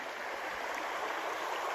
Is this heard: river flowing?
yes